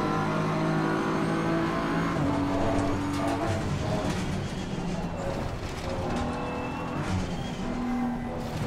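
A BMW M4 GT3 race car in Assetto Corsa Competizione at Misano roars loudly and continuously, its engine pitch rising and falling through upshifts and downshifts with tire noise underneath.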